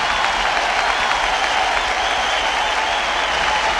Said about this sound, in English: So let's give them a hand clap, everybody.